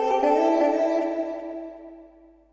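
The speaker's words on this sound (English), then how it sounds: "it's sending more of this vocal channel to the delay effect on return B" A vocal track in Ableton Live 11 Lite is sent to a delay effect on a return channel, and a sustained sung tone is followed by echoes that thin out and fade to silence over a couple of seconds.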